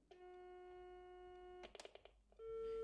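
Steady electronic tone in a rotary telephone receiver, a long unbroken note followed by a quick string of short dialing pulses and clicks, then a second steady tone; clear and close, no talk.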